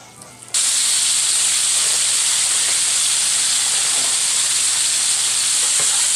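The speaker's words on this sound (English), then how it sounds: "all you should need to do is just grill them up" Oil-marinated vegetables hit the grill and burst into a loud, steady sizzle that starts abruptly and holds close and even throughout, with faint background hum and no talking.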